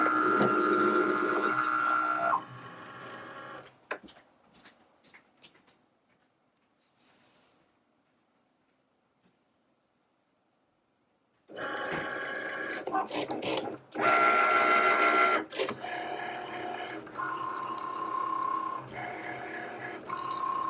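A Cricut Maker cutting machine cuts patterned heat transfer vinyl with bursts of whirring motor movement and a buzzing carriage, pausing into near silence before resuming in several loud, close runs.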